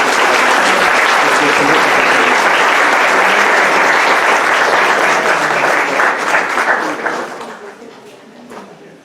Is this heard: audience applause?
yes